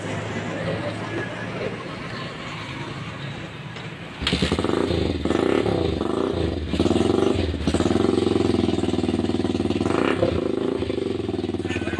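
A motorcycle engine with a newly replaced 6-pin CDI catches after a few seconds of quiet and keeps idling steadily and loudly up close, revving a little, while someone talks over it.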